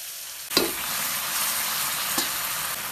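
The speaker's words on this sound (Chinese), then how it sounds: "放入葱蒜，把这个葱蒜给它炒香" Scallions and garlic stir-fried in a little oil in a wok for a home-style dish, a steady close sizzle with a couple of sharp scraping stirs.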